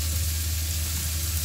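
Tomatoes sizzle and fry steadily in a hot pan, a dense close crackling hiss without pause or speech.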